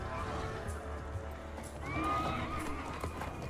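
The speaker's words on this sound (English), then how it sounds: "Look at that fucking horse." Horse in the Mortal Kombat 11 video game, neighing with a rising whinny over steady clip-clop of hooves, moderately loud against a low background rumble.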